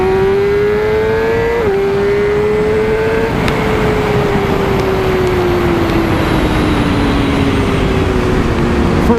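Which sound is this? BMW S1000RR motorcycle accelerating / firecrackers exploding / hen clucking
BMW S1000RR motorcycle accelerating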